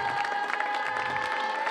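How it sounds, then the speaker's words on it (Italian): Audience applause at an outdoor town show in Falerna, a steady wash of clapping with some crowd noise and a sustained tonal hum running through it. "facciamo un applauso a queste due associazioni"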